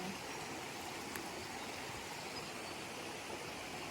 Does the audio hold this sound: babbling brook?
yes